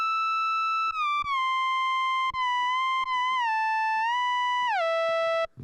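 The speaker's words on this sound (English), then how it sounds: "that classic whistle lead" A distorted West Coast–style synth whistle lead plays alone: a bright, sustained tone that glides and steps between held pitches across the phrase, with a few faint clicks under it.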